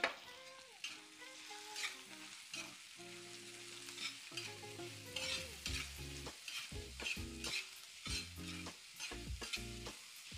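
Onions sizzling in butter with cumin in a pan for pav bhaji, a close, continuous frying hiss with stirring scrapes, under soft background music.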